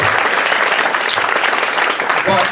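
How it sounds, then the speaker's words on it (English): Town hall audience applauding in a steady, dense wash of clapping that fills the room without a break, close and loud throughout. "can we give a huge round of applause to our incredible..."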